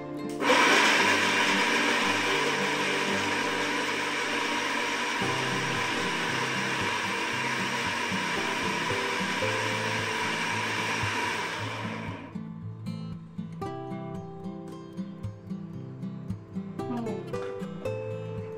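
A blender grinds ridge gourd paste with a little water for malai curry, whirring loud and steady for about twelve seconds before cutting off, followed by quieter clinks and kitchen handling.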